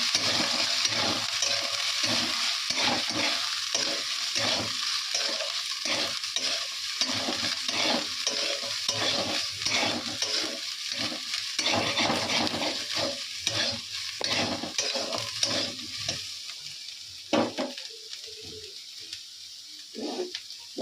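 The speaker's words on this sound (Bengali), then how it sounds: "আলুগুলো তেলের উপর দিয়ে দিলাম" Potatoes frying in hot oil in a home kitchen, a steady loud sizzle with repeated scraping stirs in an irregular rhythm throughout, close by, with no talk.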